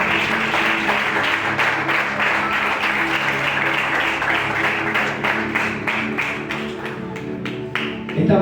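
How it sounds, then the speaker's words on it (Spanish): Steady, dense clapping from a church congregation fills the room at full loudness without a break, with a faint tonal hum underneath. "Den un aplauso"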